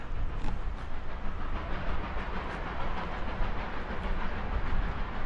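A steam train passes at a distance beside a river, a steady low rumble with a soft hiss and faint rhythmic chuffing under it, continuous and moderately quiet, with no talking.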